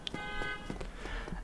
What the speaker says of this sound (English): And there goes a car alarm.